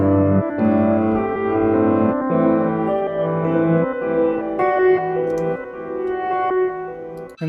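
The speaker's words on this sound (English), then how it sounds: "on kind of a reverb piano arpeggiator track. Sounds like this." A reverb-soaked piano arpeggiator track in a beat, with a continuous rolling pattern of warm mid-range notes washing together into a dense, sustained tone, fairly loud and alone.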